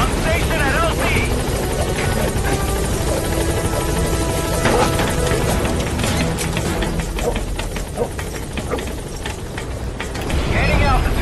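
Helicopter lifting off in the video game Metal Gear Solid 5, a steady loud rotor roar with whining turbine throughout, building slightly at the end, with radio-style game voices speaking over it.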